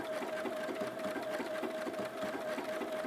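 A sewing machine running a continuous straight stitch along an appliqué, a fast, even mechanical whirr with a rhythmic needle patter, close and steady throughout.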